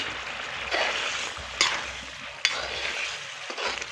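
Fish sizzles steadily as it fries in a pan, with occasional louder scrapes and clatters of stirring breaking through the continuous hiss.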